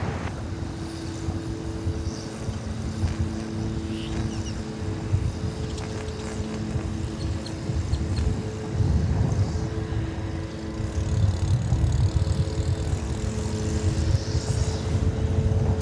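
Lawn mowers and string trimmers cutting grass at DFW Airport make a steady engine drone with sustained whining tones that swell louder toward the end, with no talking.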